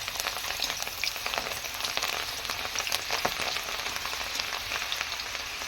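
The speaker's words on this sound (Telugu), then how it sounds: "అప్పుడు బాగా ఫ్రై అవుతుంది." Lentils (dal) deep frying in hot oil for crispy dal, with a dense, continuous crackling sizzle that holds steady throughout, close and fairly loud with no voices.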